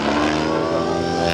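A Compass Chronos 700 RC helicopter at the Nowy Targ RC Airshow 2015 gives off a loud, steady, buzzing whine from its engine and rotor throughout, close and unbroken.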